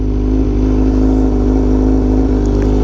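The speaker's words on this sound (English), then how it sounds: "The bike is idling good though." Honda Fireblade RRR SP motorcycle engine idling while cold, a loud, close, steady mechanical drone with a rapid, even pulse and no voices.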